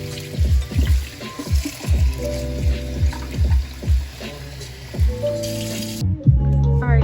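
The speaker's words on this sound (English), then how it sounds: "I'm about to rinse my tapioca" Tapioca pearls rinsed under cold running water, with repeated splashy pulses and a steady trickle close by, then the flow cuts off near the end.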